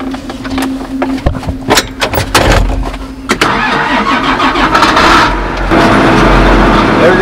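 A John Deere 4020 tractor with a six-row implement and an open station, its engine running with a loud mid-pitched rumble, several sharp knocks and rattles at first, then a steady drone that swells as it passes.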